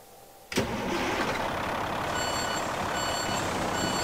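A Kenworth T660 truck fitted with a Caterpillar engine, simulated in Euro Truck Simulator 2, starts with a sharp click, then settles into a steady, loud idle rumble while a faint high beeping repeats in the background.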